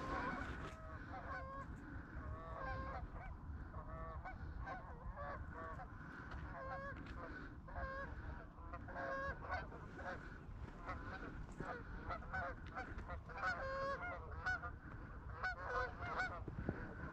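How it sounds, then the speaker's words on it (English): A flock of geese honks continuously during field goose scouting, overlapping calls repeating over a steady low outdoor rumble, sounding somewhat distant rather than right overhead. "I've been hearing geese kind of fly by off in the distance"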